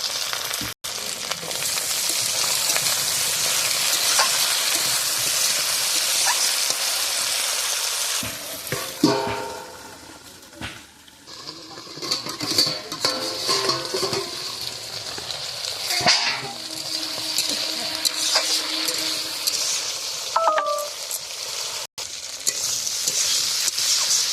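Flat beans (shim) fry in a pan over a strong fire with green chillies and salt, a loud steady sizzle broken by scraping stirs and clinks of the utensil against the pan, close up and without talk.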